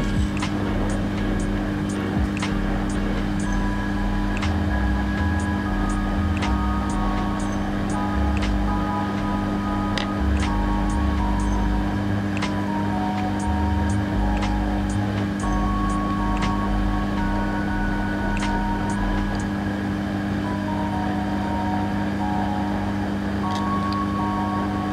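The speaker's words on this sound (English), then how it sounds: "I'll use the soldering workstation to blow the charging port with hot air" A hot air soldering workstation blows onto a phone's charging port, giving a steady, continuous airflow whoosh and hum at an even level, with faint intermittent electronic tones in the background and no talking.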